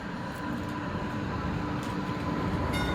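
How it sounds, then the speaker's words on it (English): A subway train waits at a station platform, its steady, loud rumble and hum filling the space with faint clicks, and no voices on top. "The next train to government center is now boarding."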